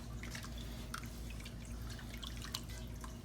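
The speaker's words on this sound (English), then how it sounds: "I'm put a little Worcestershire sauce in here, otherwise known as American soy sauce" Worcestershire sauce trickles and drips into braising beef shoulder, a soft, patchy splatter over a steady low kitchen hum.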